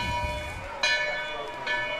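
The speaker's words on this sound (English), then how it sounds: "Sweetwater has a bell that they've brought with them." At a high school football game, Sweetwater Mustangs fans ring a handheld bell they brought to the stands, giving two bright metallic clangs about a second apart over a low crowd murmur.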